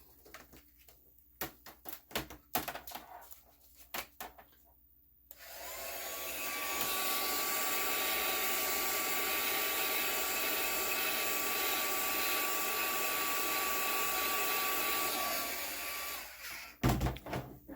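A crafting heat tool blows hot air over wet red ink on a card. It gives a steady, loud whirring roar that switches on and runs for about eleven seconds before cutting off, with small handling clicks before and after.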